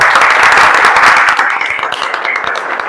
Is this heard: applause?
yes